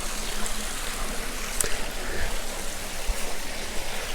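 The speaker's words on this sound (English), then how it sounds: "Now you do have this waterfall that comes down as well." Water from a waterfall spilling down stonework into a home's backyard pool, a steady broadband rushing and trickling wash that holds at a moderate, even level throughout with no talking.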